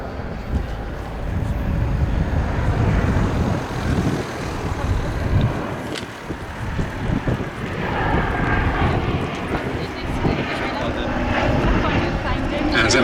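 Vintage warbirds, a Spitfire among them, fly overhead at an air display, their engines making a steady broadband drone with wind buffeting the microphone and a commentator talking over the top throughout.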